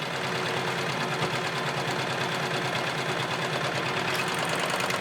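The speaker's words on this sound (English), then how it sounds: "just sew your serger seam" A serger stitches a seam with a fast, even mechanical whir and a rapid rhythmic patter. The sound is close and continuous, with no talk over it.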